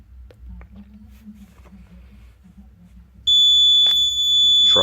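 A Simplex 4005 fire alarm panel sounding its trouble signal, a loud steady high-pitched electronic tone that suddenly starts after a stretch of quiet room noise and holds to the end.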